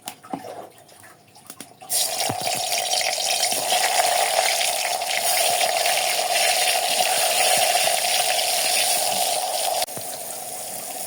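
Pointed gourd pieces coated in salt, turmeric and dried chili drop into a hot pan and fry, a sudden loud sizzle that settles into a steady hiss lasting several seconds, close by with no talk.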